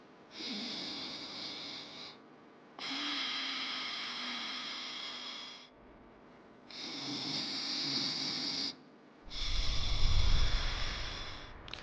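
Pranayama breathing exercise with short half breaths: four audible rushes of breath through the nose, each lasting one to three seconds, separated by brief pauses, close and fairly soft.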